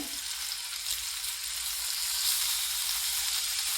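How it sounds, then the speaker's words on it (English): Loud, steady sizzling and crackling of meat frying in a hot pan, close up with no voices. "You want your pan hot. You want to hear the sizzle when you put the meat in."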